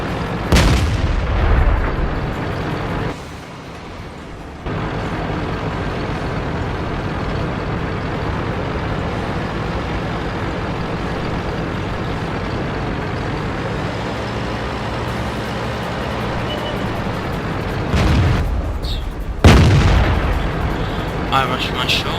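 Tank cannon fire and shell hits from the World of Tanks video game, in a battle of Tier VI Russian heavy tanks, come as a few loud booms over a steady engine drone, with a player talking throughout.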